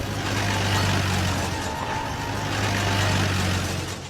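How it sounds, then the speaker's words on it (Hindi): Vehicle arriving and idling in a village, with a steady low engine rumble and a faint higher whine holding for a few seconds. "तभी अचानक गांव में एक गाड़ी आकर रुकी।"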